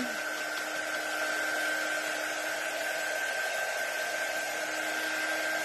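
A handheld dryer blows steadily on a transfer on a mason jar door hanger, a constant close airy whoosh with a faint tonal hum running the whole time.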